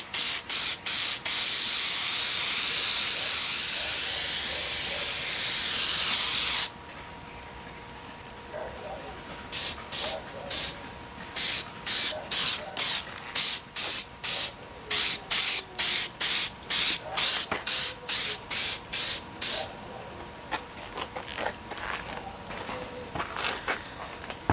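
Aerosol can of Meguiar's headlight coating spraying onto a Toyota Highlander headlight: one long continuous hiss, a pause, then a rapid series of short bursts, close and loud.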